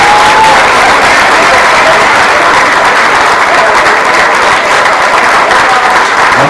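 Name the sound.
audience applause at a gala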